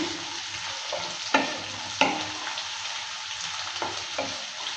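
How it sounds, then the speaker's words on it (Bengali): Chopped onion and garlic stir-fry in a pan for a bitter gourd and potato fry, with a steady sizzle and a few sharp spatula scrapes against the pan, close and alone. "পেঁয়াজটা দেওয়ার পর ভালো করে আবারও নেড়ে চেড়ে নিচ্ছে।"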